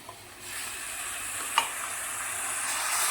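Masala with tomato, coriander and ginger paste frying and being mixed in a pan, a steady bright sizzle building slightly over time with one sharp utensil knock midway.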